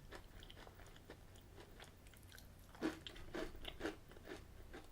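Maryland salted caramel cookie thins with chocolate chips are bitten and chewed up close, quiet at first, then several crisp crunches in a row as the thin cookie breaks apart.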